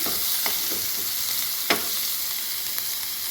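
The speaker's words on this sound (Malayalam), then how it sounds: "അരിഞ്ഞു വെച്ചിരിക്കുന്ന പച്ചമുളക് ഇട്ട് കൊടുക്കാം ഇനി ഇത് രണ്ടും കൂടെ നന്നായിട്ടൊന്ന് വഴറ്റിയെടുക്കാം" Finely chopped green chilies sautéed in a pan for beetroot mezhukkupuratti give a steady close sizzle, broken by a few sharp scrapes of stirring.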